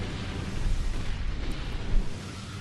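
Battleship gunfire in the naval combat video game Naval Ops: Commander, a steady, dense low rumble with broadband noise and a slight swell near the end, moderately loud with no distinct separate shots and no talking.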